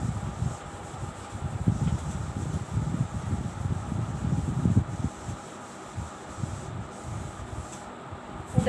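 A cloth or duster rubs chalk writing off a classroom board in repeated back-and-forth strokes, close and moderately loud, with short pauses between passes.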